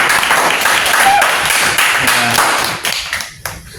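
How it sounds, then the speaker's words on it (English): Students in an entrepreneurship lecture class clap loudly for a presenting group, a dense close burst that thins out into a few scattered claps, with some voices underneath. "Clap for your friend group."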